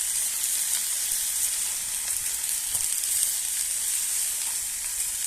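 Onions fry in a pan with a steady, close sizzle that carries on evenly throughout, with faint stirring under it and no voices.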